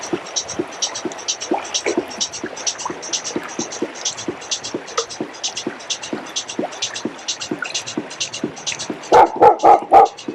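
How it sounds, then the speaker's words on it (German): A dog barks in a quick, regular series from some distance along a river between Tübingen and Kirchentellinsfurt, with a few louder, closer barks at the end. "Da ist auch noch mal ein Hund."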